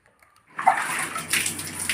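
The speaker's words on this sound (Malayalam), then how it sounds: "ഇതുപോലെ വെള്ളം നല്ലോണം ഒഴിച്ച് കഴുകുക" Water pours steadily and close as fenugreek paste is rinsed from hair, a sudden rushing splash that starts after a brief silence and keeps flowing.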